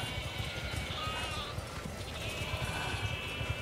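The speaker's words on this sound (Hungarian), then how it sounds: "Tök cukik a kis birkák." Sheep bleating in the video game The Alters, several overlapping calls over a dense, steady ambient bed with faint clopping, moderately loud and continuous.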